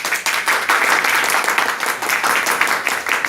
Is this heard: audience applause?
yes